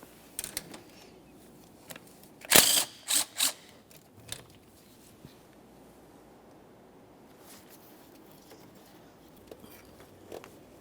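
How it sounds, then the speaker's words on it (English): A ratchet wrench clicks as it loosens a 10mm bolt on the starter bracket of a 1994-1997 Honda Accord, giving a short burst of close metallic clicking against a quiet garage background. "Remove that bolt."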